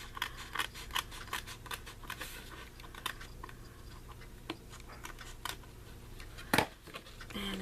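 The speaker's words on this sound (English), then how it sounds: "I'm just trimming off the sides where it kind of hung over" Scissors snip away the overhanging edges of a cut Halloween spider lantern craft piece, a quiet series of short crisp clicks in uneven rhythm with one louder snap near the end.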